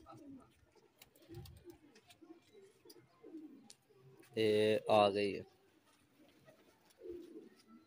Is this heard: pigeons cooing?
yes